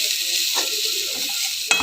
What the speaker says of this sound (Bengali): স্বাদ অনুযায়ী লঙ্কা গুঁড়ো দিয়ে এটাকে নেড়ে দেবো